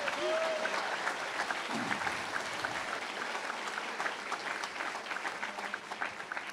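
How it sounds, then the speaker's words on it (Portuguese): A church congregation applauds during a Quadrangular (Foursquare) service, steady dense clapping filling the room throughout, with a voice faintly audible near the start. "Se vai aplaudir, aproveite e faça bem feito."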